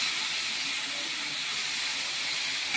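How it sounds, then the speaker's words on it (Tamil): Beetroot and chilli powder sizzle while being sautéed in oil, a steady, loud, unbroken hiss that holds constant throughout, with no voices. "இதை நல்லா அப்படியே எண்ணெயிலே வதக்கிட்டு"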